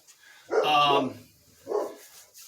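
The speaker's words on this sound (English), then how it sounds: "Sorry for my dog barking." A dog barks twice, close and loud: a long drawn-out bark followed by a shorter one after a brief pause.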